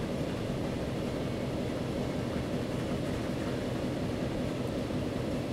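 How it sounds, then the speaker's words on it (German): A train rolls into a station in the simulation game Transport Fever at normal speed, a steady loud low rumble and rolling drone that holds evenly throughout with no talking. "So, dann fahren wir jetzt in den Bahnhof ein, bei normaler Geschwindigkeit."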